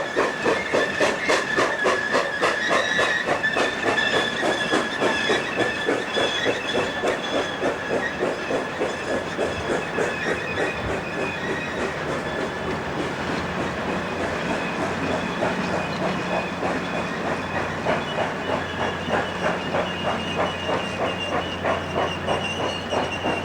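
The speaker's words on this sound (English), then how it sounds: "This Big Northern served as a dual-purpose passenger and freight locomotive" Alco-built 1942 Grand Trunk Western Big Northern steam locomotive working hard, rapid rhythmic exhaust chuffs with hiss and clanking rail noise, loud and steady throughout, a low tone rising near the end; no speech.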